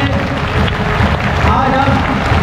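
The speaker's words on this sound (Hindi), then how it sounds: "एक बार सभी लोग अपने लिए हाथ लगाकर ताली बजाएं" An audience claps together at a birthday celebration held at an ashram hall in Haridwar, a steady dense wash of applause that lasts the whole moment, with voices mixed in.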